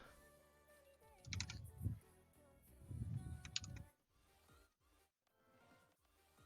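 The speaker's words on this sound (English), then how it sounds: "Just typing Camellia" Computer keyboard typing: two short bursts of quick, soft key clicks, close but quiet, followed by a quieter tail of faint taps.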